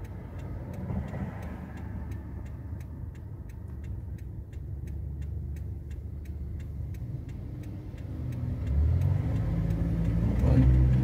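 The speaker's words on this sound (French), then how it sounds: "Il y a beaucoup de voitures aujourd'hui" Steady car traffic from an intersection during a driving exam, with engines rumbling continuously and growing louder near the end, plus a regular ticking like a turn signal throughout.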